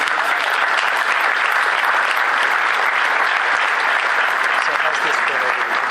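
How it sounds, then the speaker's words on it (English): A political party gathering applauds its staff with a big round of applause, dense and loud, sustained at an even level from start to finish with crowd voices blended in. "I want to give them a big round of applause here for a great job"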